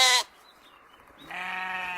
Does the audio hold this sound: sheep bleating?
yes